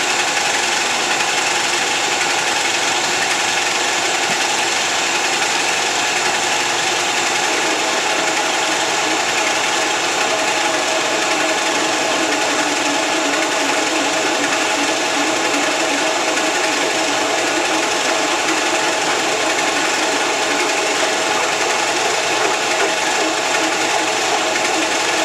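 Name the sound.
milling machine quill feeding down, machining motorcycle part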